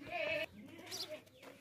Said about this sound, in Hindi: ये बकरा देखें भाई बहुत ही ज़बरदस्त सेहतमंद मोटा ताज़ा बकरा है